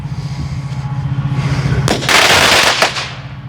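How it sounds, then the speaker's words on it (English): A cracker bomb firecracker goes off outdoors on a sunny day, a sharp loud blast followed by a crackling burst that fades within a second, after a low steady hum beforehand. "Pretty good cracker bomb there."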